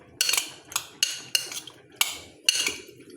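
Galunggong kinilaw stirred with calamansi in a bowl, giving several sharp clinks and scrapes of a utensil against the bowl at a steady, roughly half-second rhythm, close and fairly quiet with no talking.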